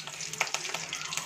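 Curry leaves spit and sizzle as they hit hot oil in a pan, a brief crackling burst with a few sharp pops, close and fairly soft.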